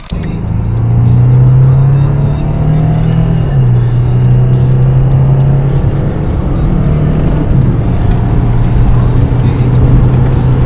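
Steady Lexus IS 250 engine hum with a low droning tone that shifts pitch as the car drives and gathers speed, continuous road rumble throughout.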